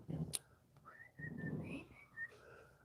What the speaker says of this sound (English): Birds whistling and chirping.